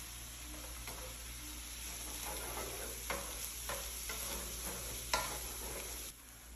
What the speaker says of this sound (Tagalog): at ngayon i-add ko na itong hiniwa kong onion. Ayan, mix ko na siya. Ayan, at-add ko siya ng konting oil.